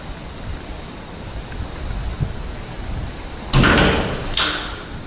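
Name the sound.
door closing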